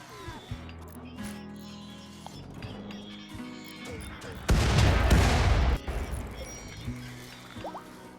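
RimWorld colonists open fire in a sudden loud burst of shots partway through, ringing out over quieter game sounds and tones, with scattered smaller impacts before and after.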